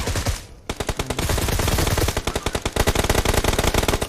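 Rapid automatic fire from an M762 rifle in the video game PUBG, a loud, close, sustained burst of tightly spaced shots after a brief gap at the start, with no voices.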